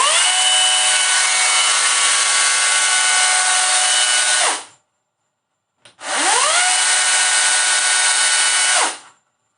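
A loud, steady electric motor whine from an Oleo-Mac GSI 30 cordless chainsaw runs for several seconds, cuts off, then starts again after a short pause, winding up and down each time.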